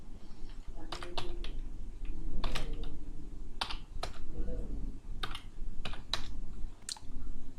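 Someone types Python code on a computer keyboard: quiet, irregular bursts of key clicks with short pauses, over a soft room background.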